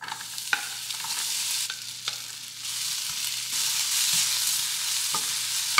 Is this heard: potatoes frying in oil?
yes